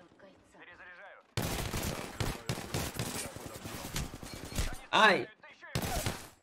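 Rapid bursts of gunfire from assembled weapons in a video game, loud and close, coming in several clustered volleys with short gaps, and a brief exclamation from a voice partway through.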